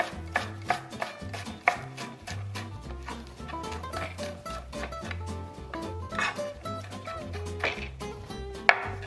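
Fresh parsley chopped finely with a knife for salt cod fritters, a rapid, steady run of close, crisp blade taps on a board over background music.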